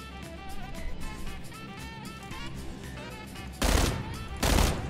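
Gunfire in PlayerUnknown's Battlegrounds: two loud, sharp bursts of shots break through a murky in-game background, spaced about a second apart near the end.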